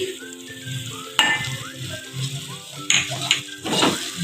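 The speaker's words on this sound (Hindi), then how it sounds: "टमाटर डाल के मैं इसको अच्छे से भून लूँगी।" Tomatoes frying in a pan sizzle steadily and close by, broken by a few sharp scrapes and clinks of a spoon stirring them.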